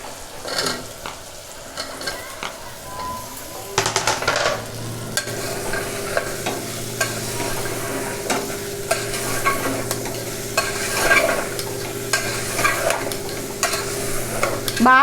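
Chopped onions go into hot oil and are stirred and fried for a potato curry with flat bean seeds, sizzling steadily with spoon scrapes against the pan, loud and close with no talking.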